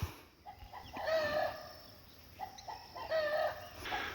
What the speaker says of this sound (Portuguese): galinha acabou de botar. Estão vendo os gritos?